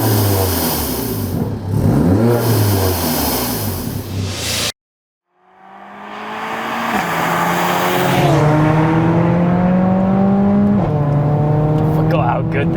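Mercedes A45 AMG widebody, tuned to 465 bhp with a downpipe and resonator delete: the engine fires up after a pause, then revs rise and fall in high-pitched, stepped pulls and settles, loud and close.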